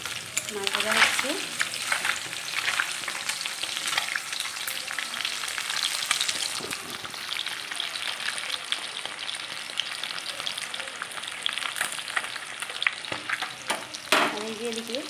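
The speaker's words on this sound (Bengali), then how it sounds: "মাছ ভাজা হচ্ছে।" Fish fries in a pan with a continuous crackling sizzle, close and fairly loud, broken by scraping and clattering as the pieces are turned and stirred.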